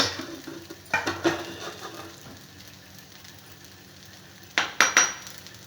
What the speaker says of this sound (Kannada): ಇದು ಒಂದು 5 ನಿಮಿಷ ದೋಸೆ ಬೇಯಬೇಕು. ಚೆನ್ನಾಗಿ ಕಾವಲಿ ಕಾಯಬೇಕು ಫಸ್ಟು